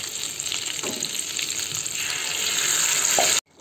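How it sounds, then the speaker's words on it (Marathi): Spiced masala for stuffed eggplant bubbles and sizzles steadily in a pan, a dense frying hiss with small pops that cuts off abruptly, no talking. "मसाल्याला चांगली उकळी आली आहे"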